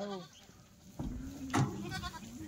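Kathiawadi goats unloaded from a vehicle at a livestock gathering give a few short bleats, one loud and close, over a quiet outdoor background with faint voices nearby.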